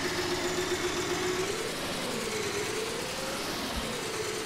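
An old farm tractor's engine idles steadily at low volume, a continuous mid-pitched running drone that holds for several seconds with a slight wavering tone and no speech over it.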